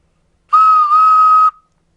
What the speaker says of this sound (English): That's the noise of a train toot-tooting.